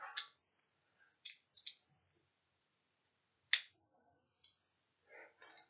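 Plastic clicks and snaps from folding a Bakugan Viperagon toy into shape, a handful of short, crisp, close-up clicks spaced irregularly over quiet.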